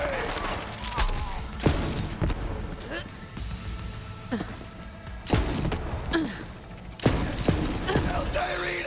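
Borderlands 3 gameplay on an Asus ROG Strix G15 laptop carries repeated bursts of gunfire and sharp explosive blasts, loud and close, under someone talking throughout.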